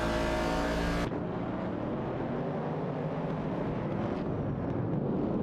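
Race car engines in a racing video game, including an AMC Javelin 70 and a Dodge Challenger, a continuous loud engine roar that holds steady after an abrupt start.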